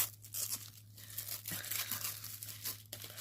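A taped-up yarn package is torn open up close, with quiet ripping and crinkling of tape and packaging in short bursts over a low hum.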